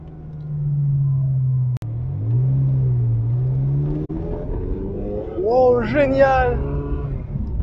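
A Ferrari engine at full throttle holds a steady, close drone, then climbs sharply in revs toward the end, with voices talking over it.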